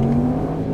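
A Mercedes-Benz E200 with an Active Sound module, set to its dynamic drive profile, revs its engine in a brief, steady, close-up drone with a strong low hum and no voices.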